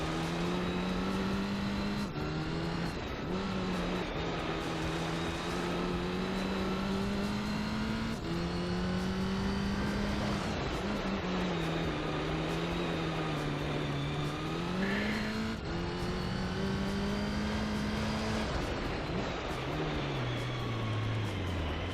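A race car engine in Gran Turismo 3 drones loudly and continuously throughout, its pitch sagging and wavering as the revs bog down, then climbing and dipping again near the end.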